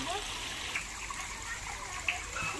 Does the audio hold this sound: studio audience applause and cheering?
no